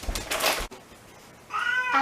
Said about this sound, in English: Allie was meowing away, so I thought I might as well have her on video